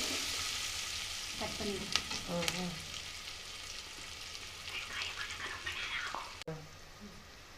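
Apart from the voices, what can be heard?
onions sautéing in a pan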